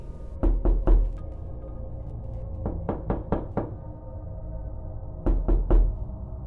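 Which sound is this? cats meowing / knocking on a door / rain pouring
knocking on a door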